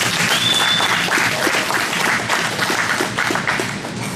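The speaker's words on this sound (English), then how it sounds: "a round of applause for James" A small group applauding at a jiu-jitsu gym, dense steady clapping that holds at full strength for several seconds, close and loud with no voices.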